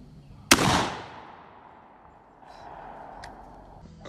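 A Rock Island Armory home defense shotgun fired once, a single sharp, loud blast followed by a decaying echo and faint background noise.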